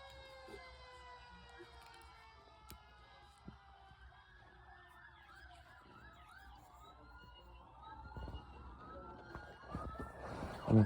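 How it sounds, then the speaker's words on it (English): Several ambulance sirens wail at a distance after an earthquake, overlapping rising and falling tones that grow a little louder toward the end, with faint crowd noise underneath. "Look at all those ambulances over there."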